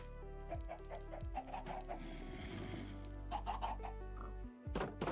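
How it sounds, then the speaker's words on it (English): Video game chickens cluck while their feet make creaky clacking sounds, repeated short bursts over a low droning background in a Copper Age hardcore survival world. "I don't remember chickens ever making that sort of creaky clacking noise."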